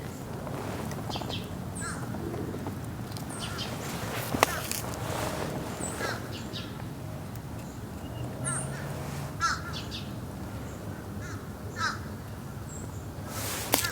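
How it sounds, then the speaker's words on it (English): Crows cawing repeatedly in a garden during spring carrot seed sowing, harsh calls scattered through steady outdoor background noise, some near and some farther off. "Those are the birds just telling everybody that I'm planting seeds and to get ready to eat them"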